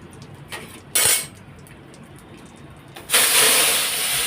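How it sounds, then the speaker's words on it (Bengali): Dal already mixed with salt and turmeric tipped from a battered bowl into a pan, with a couple of clattering utensil knocks and then a loud rushing, hissing pour that carries on steadily to the end. "এই দেখো পুরো ডালটাই আমি ঢেলে দিলাম"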